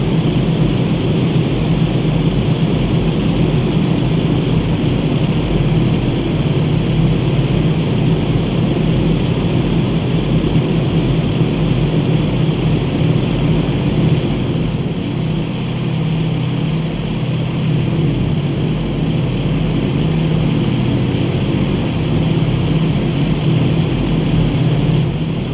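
Propeller aircraft engine drones steadily in flight in IL-2 Great Battles, a loud, continuous low hum with a constant pitch that holds without pause.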